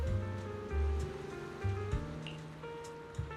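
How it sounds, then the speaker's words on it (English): Ocean waves wash in a steady surf wash in the game Zenless Zone Zero, with low swells rising and falling alongside a tonal musical bed, moderately loud and without talk. "Listening to the waves won't do much harm."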